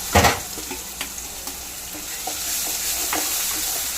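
Ground masala paste hitting golden fried onions in a pan for vatha kuzhambu, with a sharp initial sizzle, then steady frying hiss and light scraping stirs at intervals, close up with no voices.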